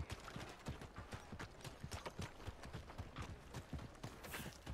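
A horse's hooves clip-clop steadily along in Red Dead Redemption 2, an even walking rhythm heard fairly quietly throughout with no talking.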